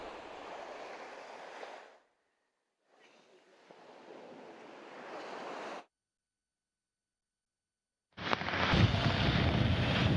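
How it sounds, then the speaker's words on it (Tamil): Strong wind and crashing sea waves roar during Cyclone Ditwah at the coast in Nagai, Tamil Nadu, in several loud, sustained stretches broken by abrupt silent gaps. "ராமநாதபுரம் மாவட்டத்தில் பலத்த காற்றுடன் பரவலாக மழை பெய்து வருகிறது."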